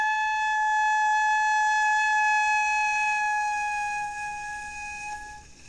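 A flute headjoint blown alone as it is spun, giving a steady bright whistling tone with strong overtones that holds for several seconds, then thins and wavers as the airflow is lost.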